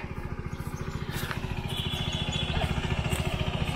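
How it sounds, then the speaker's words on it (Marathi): A chugging diesel tractor engine runs steadily close by with a fast, even rhythm, growing slightly louder over the few seconds as it ploughs a field in the Konkan region. "इकडे ट्रॅक्टरचा आवाज बघा"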